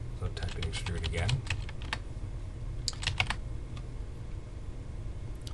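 Someone types on a computer keyboard while drawing in 3D software, irregular bursts of quick key clicks, close and fairly faint, over a low background hum with some talk.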